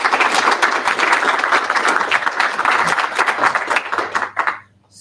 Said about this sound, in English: Awesome, round of applause.